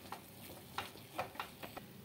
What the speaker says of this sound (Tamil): இப்போ நான் வந்து ஹேண்ட் விஸ்க் வச்சு நான் ஒன்று போல் நல்லா மிக்ஸ் பண்ணி விட்டுடுறேன்